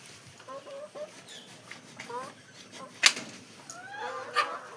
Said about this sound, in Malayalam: ഇത് മുട്ടയിടുന്ന കോഴികൾ.